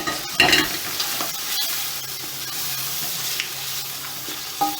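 Mutton pieces frying in a pan for a cauliflower mutton curry, a loud close sizzle with scraping stirs and occasional clinks of a utensil against the pan.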